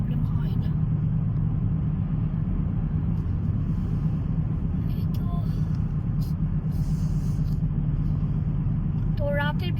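Steady low road rumble inside a car driven slowly at night, constant and even, with faint talk and a few brief higher sounds over it.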